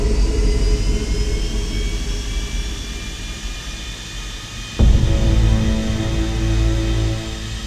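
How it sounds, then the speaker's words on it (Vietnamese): Korean Air cargo jet engines roar at full takeoff power during a night departure, a loud steady whine and rumble that surges abruptly partway through and holds heavy and close. "Cơ trưởng cho chiếc máy bay tăng hết công suất để cất cánh ở tốc độ 285 km/h."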